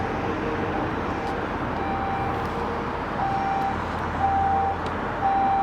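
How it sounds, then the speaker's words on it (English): A steady alarm tone sounds in repeated pulses over a low rumble of traffic or idling vehicles, moderately loud and continuous. "That's the longest an alarm has stayed on."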